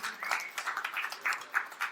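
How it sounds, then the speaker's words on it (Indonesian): A church congregation applauds during a sermon, a soft, fairly quiet patter of many hands clapping at a distance, with some overlapping cheering voices. "Berikan tepuk tangan pada Tuhan."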